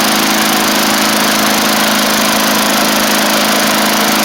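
A 1990s MTD Yard Machines push mower with an old-style Tecumseh engine runs at high throttle, a loud, steady, close buzzing drone with no pauses or voices.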